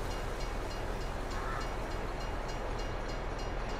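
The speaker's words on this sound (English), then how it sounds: "Oh, now we've got a train coming." A train rumbles past a level crossing in Farming Simulator 22, a dense, loud and steady rolling roar of rail wagons close by with faint rhythmic clatter and no talking.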